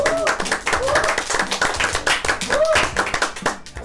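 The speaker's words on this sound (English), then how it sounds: "Big big hand of applause" A studio audience gives a round of applause for a show guest, lively close-up clapping from a modest group, busy and uneven throughout with some voices mixed in.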